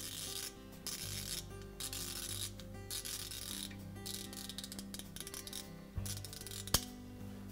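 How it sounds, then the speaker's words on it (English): The dial on an Amana refrigerator's defrost timer is turned clockwise, giving faint mechanical grinding and ratcheting close by, then a single sharp click near the end. "we'll take the dial and rotate it clockwise until we hear a sharp click."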